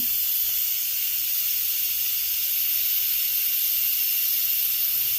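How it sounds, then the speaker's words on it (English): An Instant Pot pressure cooker vents the last of its steam through a manual release while split pea soup cooks, a steady, fairly soft hiss that holds level throughout with no voices. "let out the rest of the steam manually."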